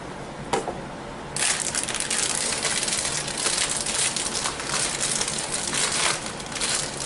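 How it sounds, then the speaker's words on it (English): A plastic seasoning packet is twisted and tugged in a struggle to open it, with one sharp crackle early on and then loud, continuous crinkling and crushing close up. "How do they expect you to eat when you can't get the packaging open?"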